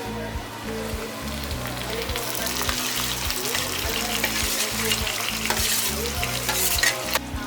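Round tinda gourd pieces sizzle and fry in a pan of golden-brown onions, with steady, loud crackling and repeated scraping stirs throughout, no talk.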